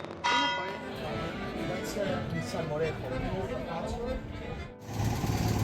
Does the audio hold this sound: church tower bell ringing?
yes